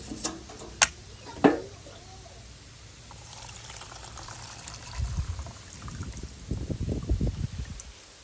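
Acetone and automatic transmission fluid poured into a container outdoors, a few sharp knocks and clinks at the start, then a soft trickle that swells into a burbling pour near the end, with no talking.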